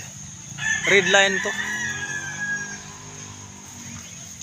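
A rooster crows once nearby, followed by soft clucking and a brief voice speaking in the background.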